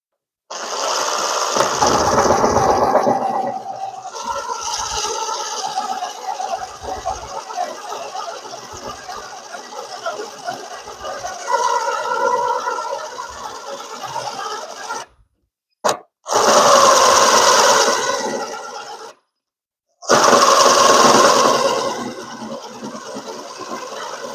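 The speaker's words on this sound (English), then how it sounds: "That's why I use a spot drill." A spot weld drill cuts out spot welds on a rusted truck's sheet metal, giving a harsh grinding rasp in several bursts, the loudest near the end, separated by brief stops and quieter stretches of grinding.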